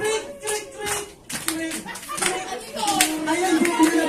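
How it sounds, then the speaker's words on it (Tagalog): Guests at a child's third birthday party in the Philippines clap together, uneven bursts of claps mixed with voices and children talking over them, growing busier toward the end. "Ayan, sabay po tayo ng palakpak."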